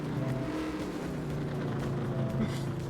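A race car engine in a video game idles roughly and steadily, a continuous low rumble with uneven, sputtering texture throughout, no voices present.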